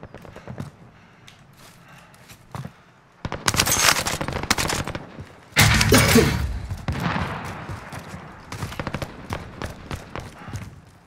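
Call of Duty Warzone gunfire crackles in rapid bursts, with steady automatic rattling and two sharp, loud volleys near the middle standing out above quieter shots through the rest, and no clear talking.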